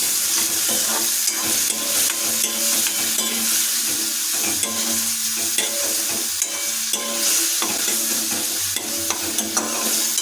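Freshwater snails frying with salt and turmeric powder in a hot pan, a loud, continuous sizzle overlaid with constant scraping and clattering of stirring, and no voices.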